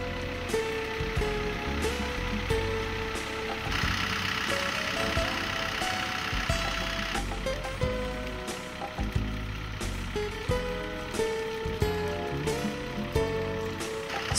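A Kobelco excavator engine holds at low idle with a steady, dense mechanical rumble and clatter, running continuously and loudly for the whole stretch with no voices over it.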